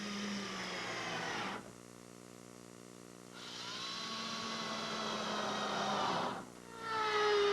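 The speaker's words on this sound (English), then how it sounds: "to trim off any excess plywood, I'm simply using my laminate trimmer" Laminate trimmer routing off excess plywood on a sailboat build, a loud high whining motor in two long bursts that wind down into quiet gaps, close and alone with no talk.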